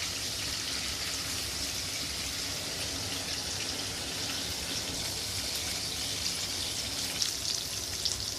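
Squid frying in oil for squid biryani makes a soft, even crackling sizzle that holds steady throughout, with a few small pops near the end.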